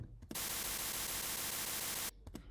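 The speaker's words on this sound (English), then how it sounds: "it's just a repetition of white noise" A repeated chunk of synthesized white noise, a loud steady hiss that runs for about two seconds between brief quieter stretches at either end.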